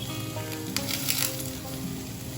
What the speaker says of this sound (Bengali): তার সাথে কারি পাতা দিয়ে দিব।